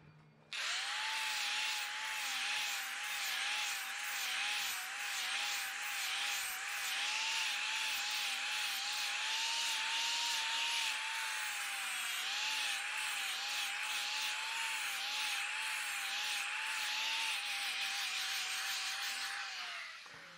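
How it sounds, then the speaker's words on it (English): A flap disc grinds a steel roof rack tube for a Suzuki Sidekick with a loud, continuous high whine that wavers slightly in pitch, running steadily for about twenty seconds. "just blend those out gently using a flapper wheel or flapper disc"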